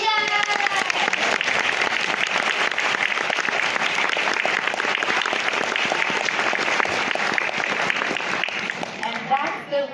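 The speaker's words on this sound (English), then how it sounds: "We should give an applause." Sustained audience applause from a crowd at a children's storytime event, dense steady clapping filling the whole stretch and thinning slightly at the very end.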